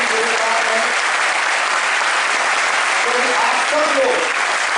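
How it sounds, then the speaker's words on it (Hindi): An audience at a Vestige 10th anniversary event in Mumbai claps for the company's distributors, a thick, even wash of applause sustained at full volume with faint voices mixed in. "all our distributor deserve a special round of applause"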